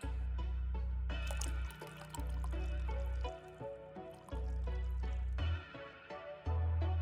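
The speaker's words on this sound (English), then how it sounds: "Let me pour a little bit of that out." In the video game The Red Strings Club, vodka is poured into a drink with a soft, trickling liquid sound. Short pours and drips come in a few bursts over a low, steady background hum.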